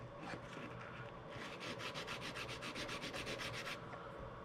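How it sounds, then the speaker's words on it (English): Quick, rhythmic sanding strokes scrape back and forth up close on metal contacts of a truck camper electric jack switch, fairly faint and steady. "I just have been sanding these off"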